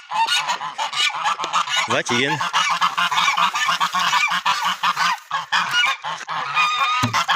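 Farmyard geese being given grain at feeding time honk loudly and constantly, a dense overlapping clamor close by, with a brief spoken word slipped in.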